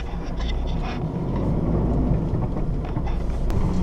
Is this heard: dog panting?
no